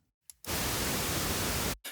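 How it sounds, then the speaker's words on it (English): Broadband white noise from the Cubase test generator, starting after a short silent gap, holding as an even loud hiss for about a second and a half, then cutting off sharply before a brief final burst. "You want to hear white noise, or pink noise,"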